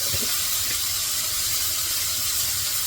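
Tomato, garlic and onion sauté in hot oil with a steady, loud sizzling hiss that stays even throughout, without pauses or voices.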